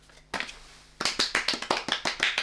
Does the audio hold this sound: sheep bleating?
no